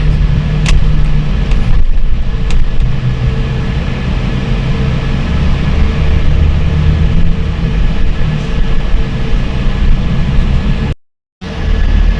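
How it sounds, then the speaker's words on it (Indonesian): Dump trucks travel along a road between Palembang, Natar and Bakauheni, heard as a loud steady rumble of traffic and engine noise that runs almost unbroken until a sudden brief cut near the end. "Kumpulan dump truck semua ini."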